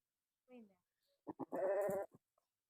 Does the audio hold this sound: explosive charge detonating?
no